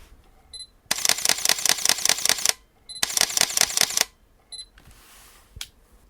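A Sony A7 III camera shoots continuous bursts, two rapid runs of close mechanical shutter clicks rattling like a machine gun, each preceded by a short focus beep, with quiet pauses between.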